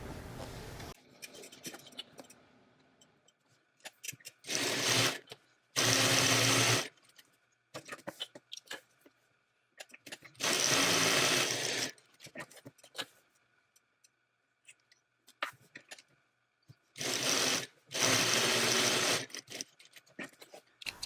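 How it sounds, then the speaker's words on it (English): Sewing machine stitching the side and bottom seams of a tote bag at a half-inch seam allowance, heard in several loud, steady whirring bursts of a few seconds each, with quiet handling sounds of fabric between runs. "we are going to stitch down this side, across the bottom, and up this side."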